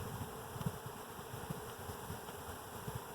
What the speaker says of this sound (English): if you can listen, I don't know if you can hear it, but the bees are fanning.